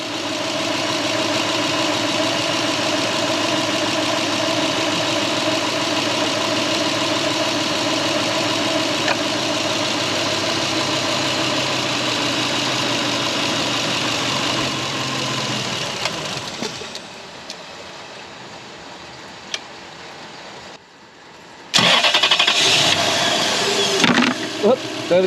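A 2013 Toyota Hilux fitted with a 3UZ V8 engine idles with a steady, close hum, then drops away to near silence before a short loud burst near the end.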